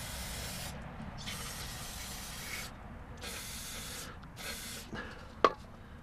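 Aerosol brake cleaner sprayed underneath a 1998 Toyota Camry during oil leak and timing belt repairs, coming in four separate long hissing bursts with short pauses between them, followed by a sharp clank near the end.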